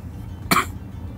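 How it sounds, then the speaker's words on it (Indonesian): A single sharp cough bursts out close by against a quiet background, brief and loud. "Sorry, agak batuk."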